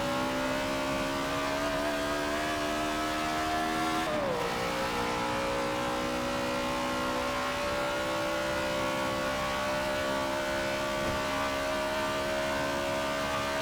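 A race car engine in Forza Motorsport 7 on the Le Mans circuit drones at steady high revs, with a brief dip and shift around four seconds before it settles back into a sustained, loud, tonal whine.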